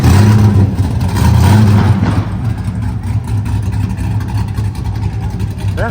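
A V8 Ford Mustang at SEMA 2025 revs through a loud exhaust, a deep rumbling roar that swells early, then holds at a steady idle-like growl with slight pitch rises, close and dominant.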